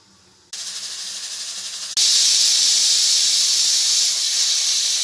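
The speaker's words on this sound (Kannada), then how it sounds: "ಒಟ್ಟು 5 ವಿಷಲ್ ಕೂಗಿಸ್ಕೊಳ್ತಾ ಇದ್ದೀನಿ, ಬೇಳೆ ಬೇಯಿಸ್ಕೊಳ್ತಾ ಇರೋದು" A pressure cooker cooking lentils vents steam in a loud, steady hiss that starts abruptly and then jumps to an even stronger, sustained rush, close and alone.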